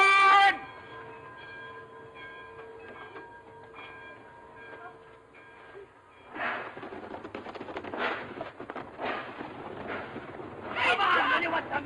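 In a 1932 comedy, a train is heard first as a steady tonal hum, then as rumbling, clattering rail noise with bursts of hissing, all loud and close.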